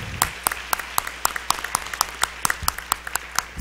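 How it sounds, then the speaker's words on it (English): A school board meeting audience applauding a student athlete: scattered claps ring out sharply in a brisk, fairly regular rhythm, moderately distant in a large room, with no voices over them. "Let's give her a big round of applause"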